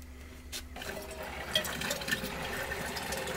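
Water pours and trickles into a container, filled by hand inside a van, a steady gurgling stream after a short quiet start, close and moderately loud.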